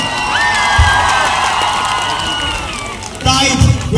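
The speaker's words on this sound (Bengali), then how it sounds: "তাই জন্য এই মানুষটার জন্য একটি জোরে হাততালি।" Crowd at an outdoor stage programme clapping and cheering, with whoops and shouting over a busy, loud mix, and a host's voice talking through it.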